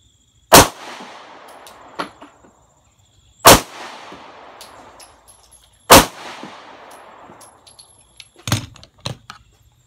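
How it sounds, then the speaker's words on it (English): Three loud, sharp Glock 19 pistol shots ring out at even intervals, each trailing into a short echo, followed by a few fainter metallic clinks. "Next up, Glock 19."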